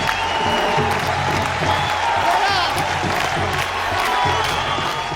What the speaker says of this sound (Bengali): জোরে হাততালি হবে ইসমাইল হোসেন মনোয়ারের জন্য।